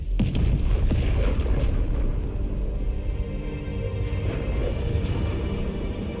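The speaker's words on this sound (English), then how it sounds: "There's a whole bunch of explosions." Dense, continuous explosion blasts from the video game Contra: Operation Galuga, with loud booms and sharp pops layered over a constant rumbling roar throughout.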